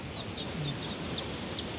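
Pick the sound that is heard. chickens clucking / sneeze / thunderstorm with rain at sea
chickens clucking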